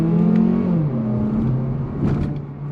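Mazda CX-3 economy car with paddle-shift automatic transmission accelerating, the engine note rising in pitch, dropping at a shift, then climbing again, heard close and steady from inside the car with no talk.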